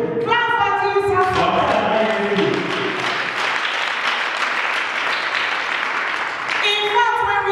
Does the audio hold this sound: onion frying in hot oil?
no